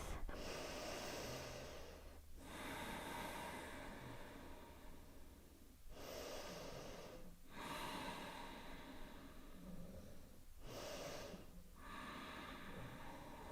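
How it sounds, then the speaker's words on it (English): Slow, deep exhalations during a yoga practice, four long breaths in a steady rhythm with short pauses between them, close and soft with no talk. "Nice, complete exhalations, coming back to your breath."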